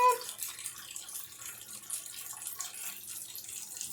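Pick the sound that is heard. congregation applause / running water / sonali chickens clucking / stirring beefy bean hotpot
running water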